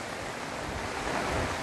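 The Muchkund river runs in flood during heavy Konkan monsoon rains at Rajapur, giving a continuous broad roar of surging water that swells slightly toward the end, with a faint wind-like hiss.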